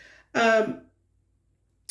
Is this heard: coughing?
yes